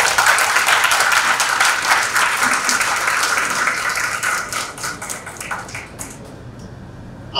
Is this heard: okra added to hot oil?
no